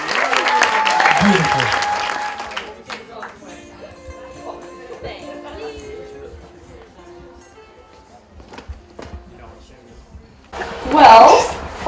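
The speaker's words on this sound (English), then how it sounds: "Can we get one more round of applause for Lisa?" Wedding guests at an outdoor ceremony in Mōli'i Gardens, Kualoa Ranch, Hawaii, clap in a warm burst of applause that gradually thins out, with voices and a brief spoken word mixed in, then a short loud swell near the end.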